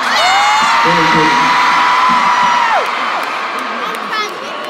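A large concert crowd at the O2 Arena cheers and whoops loudly, with a sustained high whistle-like whoop and someone talking over the din.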